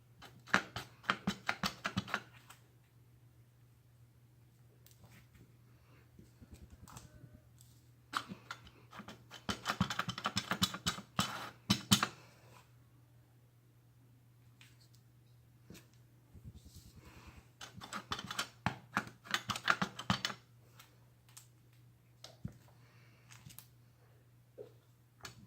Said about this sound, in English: I am stamping on and off the page